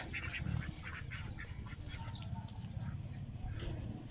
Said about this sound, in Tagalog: Ayan yung mga alaga nating itik oh